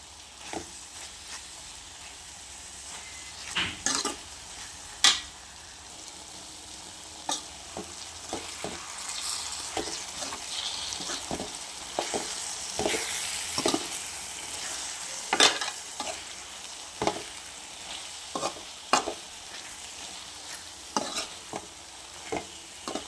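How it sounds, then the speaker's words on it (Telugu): Ginger garlic paste frying in a pan for an eggplant tomato curry, with a continuous close sizzle broken by frequent sharp scrapes and taps of a spatula stirring, and no talking. "అల్లం వెల్లుల్లిపాయ పేస్ట్ వేసుకొని ఇందులోనే ఫ్రై చేసుకోవాలి"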